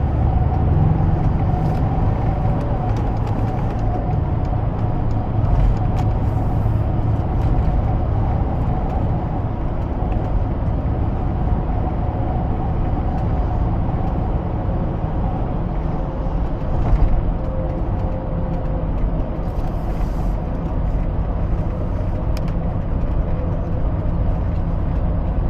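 A Mercedes-Benz G550 4x4 Squared with a 4-liter V8 drones steadily from a cabin point of view, a continuous low engine and road rumble with no breaks.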